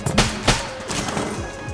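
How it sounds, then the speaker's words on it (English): T-shirt cannon shots in the video game Enter the Gungeon, two sharp bursts close together near the start, then busy game effects continuing over a constant bed of in-game sound. "T-shirt cannon!"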